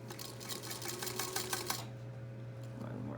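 Sewing machine stitching a fabric face mask, giving a quick run of rapid mechanical clicks that stops partway, after which only a steady low hum is left.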